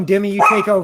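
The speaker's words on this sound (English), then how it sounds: "I apologize for the barking dogs right now." Dogs barking in the background behind a nearby voice, a few short yips and barks blending with the talk over a brief moment.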